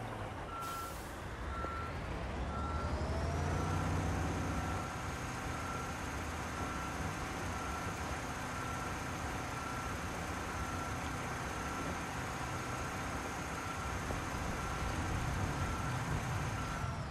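Heavy truck in Construction Simulator 22 idling and moving, with a steady engine rumble, a brief air-brake hiss near the start and repeated reversing beeps, then a long even drone.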